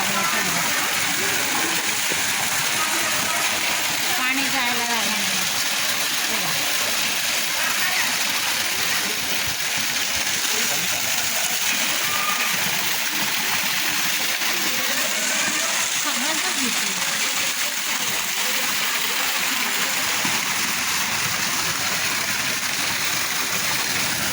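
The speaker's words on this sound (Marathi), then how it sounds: "आमच्या दारासमोर किती पाणी आलं हे बघा" Floodwater from heavy rain in Pune flows up to a house doorstep, making a steady, broad rush of moving water that fills the whole stretch, with people talking over it.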